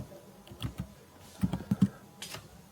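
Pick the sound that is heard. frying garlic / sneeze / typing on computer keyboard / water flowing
typing on computer keyboard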